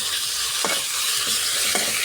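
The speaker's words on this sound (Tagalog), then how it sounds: "Nagigisa na tayo. Yung sibuyas, bawang." Ground meat sautéing with onion and garlic in a pan: a loud, continuous sizzle with a few soft scraping stirs of a utensil at intervals.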